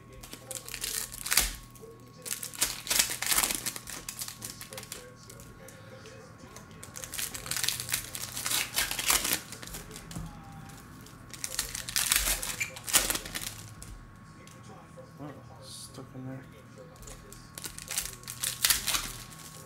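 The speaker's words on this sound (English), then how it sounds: "these packs are ripping real nice." Baseball card packs, including a Griffey-themed mixer, being torn open by hand: repeated sharp crinkly rips and crumples of foil wrappers in bursts, with a low hum running underneath.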